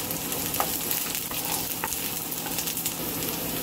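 Red onion sizzles in hot cooking oil in a wok, a steady crackling fry with occasional stirring clinks, close and continuous.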